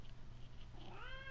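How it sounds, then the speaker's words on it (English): A cat meows once, a clear rising-and-falling cry near the end, heard alone over a low steady room hum. "Hi, kitty cat."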